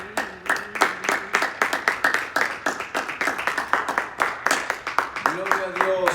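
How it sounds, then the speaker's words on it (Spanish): Congregation in a church clapping rhythmically in a steady, fast beat for several seconds, with voices and singing-like tones over the claps. "Vamos a dar otro fuerte aplauso a nuestro Señor Jesús."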